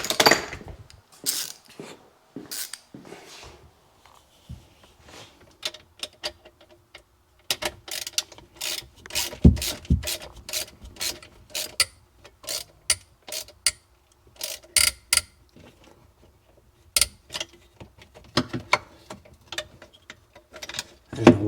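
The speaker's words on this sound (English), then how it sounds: "And a ratchet." A ratchet wrench clicks on bolts of a Suzuki GSX motorcycle in a workshop, with repeated bursts of sharp ratcheting strokes, close and fairly loud, separated by short pauses.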